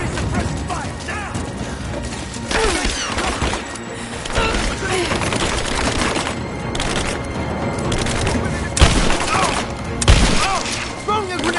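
Sustained gunfire and battle noise from Rise of the Tomb Raider fill the scene, with a dense, loud clatter of shots, mechanical clanks and occasional heavier thuds, mixed with shouted commands from game soldiers.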